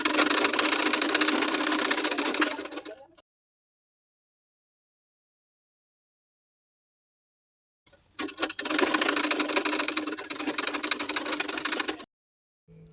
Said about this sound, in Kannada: ಈ ರೀತಿ ಇದನ್ನು ನೀಟಾಗಿ ಸ್ಲೀವ್ಸ್ ಮಧ್ಯದಲ್ಲಿ ಇಟ್ಟು ಸ್ಟಿಚ್ ಮಾಡ್ಕೊಳ್ಳೋಣ